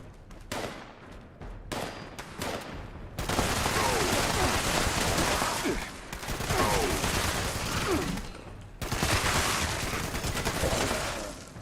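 Player's automatic weapon firing in Fallout 76: a few spaced single shots, then long sustained bursts of rapid fire, loud and close, broken by brief pauses.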